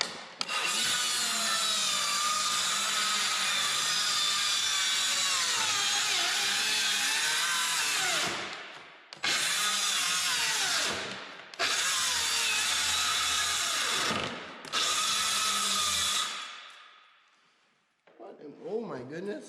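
A power tool trims a piece off a part for a 302 Skidoo snowmobile, with a loud, continuous high grinding whine in several long bursts broken by short pauses, then fading out near the end.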